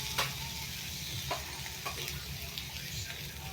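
Prawns fry in a pan with garlic, giving a dense, continuous sizzle under a low hum, with a few sharp ticks from the pan or utensil.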